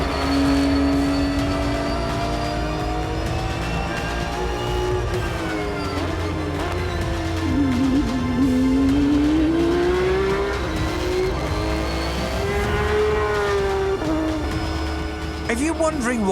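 A Porsche GT3 Cup race car laps a circuit with a loud onboard engine howl that climbs and falls through gear changes and corners, holding close and strong throughout without pause.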